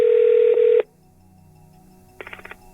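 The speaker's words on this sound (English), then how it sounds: "I decided to phone him up." An international telephone call being placed: a steady dial tone cuts off, then a quick burst of touch-tone keypad beeps follows after a short pause, clear and close with no talking.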